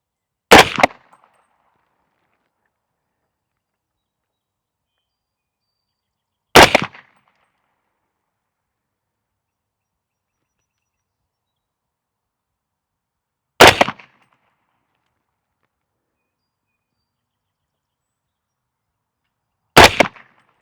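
Four loud, isolated 7.62 rifle shots fired through a Huxwrx Flow Ti suppressor with 208 grain AMAX ammunition, each a sharp crack spaced several seconds apart with silence between, aimed at targets 50 yards downrange.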